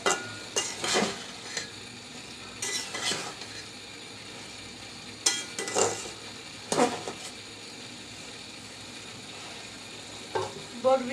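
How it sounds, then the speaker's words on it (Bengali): Yardlong beans stir-fried in thick curry gravy sizzle softly in a pan, with repeated scraping and clanking of a spatula against the pot in bursts, close by and without speech. "দু মিনিট একটু বরবটি সহ এই ঝুলের মধ্যে কষিয়ে নিচ্ছি"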